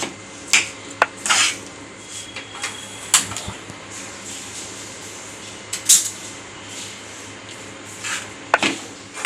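Dal and jaggery mixed in a pot for puran, a spoon scraping and clinking against the metal in irregular clattering bursts, fairly close, with quiet pauses between strokes.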